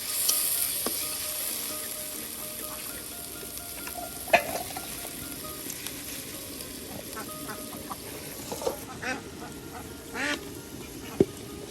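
Ground onion, cumin and garlic pastes fry together in a pan in a village kitchen, giving a steady sizzle with occasional stirring knocks and scrapes, while a duck quacks faintly in the background.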